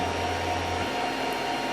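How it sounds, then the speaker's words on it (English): A Creality CR-10 3D printer running mid-print, its cooling fans giving a steady, loud whir with a low motor hum that drops out partway through. "The motion of the printer is not as noisy as all the fans"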